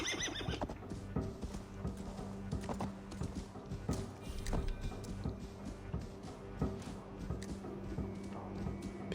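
A horse whinnies near the start, then hooves clop steadily throughout over a dense layer of game music and ambient sound.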